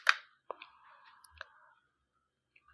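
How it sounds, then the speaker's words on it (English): A computer keyboard, with a sharp Enter key press followed by a few lighter clicks and taps for a paste command, faint and close in an otherwise quiet room. "I'm going to hit enter on my keyboard, and I'm going to paste"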